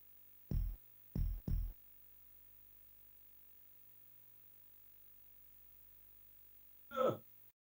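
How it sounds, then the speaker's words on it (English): Three short, deep thumps in quick succession, a heartbeat from a video game ported from the Amiga, followed after a long quiet gap by a brief breathy sound. "I can only hear the the heartbeat in my left ear."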